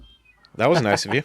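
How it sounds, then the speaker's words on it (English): A cat meows in the background of a room while a person talks over it, its calls mixed with the spoken voice in a short burst. "I don't know if you can hear a cat in the background."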